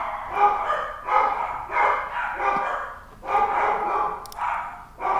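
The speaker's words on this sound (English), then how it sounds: "Can you guys hear the dogs in the background?" Several dogs bark repeatedly in the background, a steady run of rhythmic woofs at moderate distance that carries on for the whole stretch without any talk over it.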